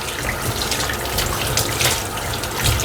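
Electronic air filter pre-filter rinsed under a sink tap, a steady close rush of running water splashing over the mesh for the full few seconds, no voices.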